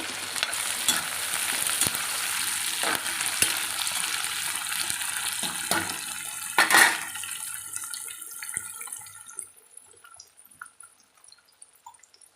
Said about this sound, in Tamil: பார்த்தீங்கன்னா நல்லா வதங்குது.